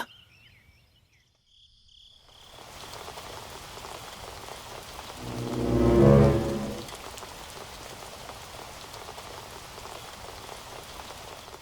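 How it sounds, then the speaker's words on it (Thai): Steady rain falls on surfaces after a short near-silent start, a dense continuous patter with faint crickets underneath and one louder swell of splashing partway through. "ฝนตกไม่หยุดเลยสองวันสองคืนติดต่อกันแล้วนะเนี่ย"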